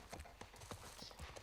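Horse hooves clip-clop in The Last of Us Part 1, a steady rhythmic beat of several hoof strikes, faint and continuous over a soft background.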